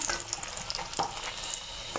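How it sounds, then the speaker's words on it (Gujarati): Potato vada dumplings coated in gram-flour batter deep-fry in oil with a soft, continuous bubbling sizzle and a few faint clicks. "આવી રીતે તળવા બટેટા તળવાના"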